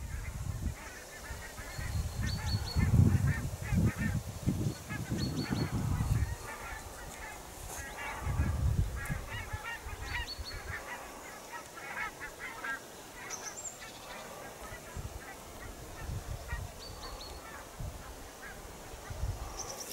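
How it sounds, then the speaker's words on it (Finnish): A large flock of migrating geese honking overhead in autumn, a dense, continuous chorus of calls at moderate distance, with someone speaking briefly near the start. "Tuolla männö, iso hanhiparvi."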